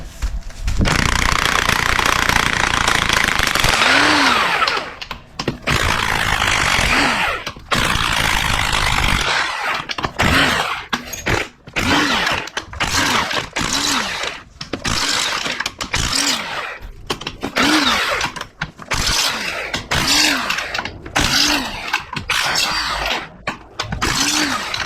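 A power tool rattling out 12mm bolts from the 2.5L 2AR transmission of a Toyota Camry ASV50R during disassembly, loud buzzing bursts repeated in quick succession with brief pauses between, close and steady.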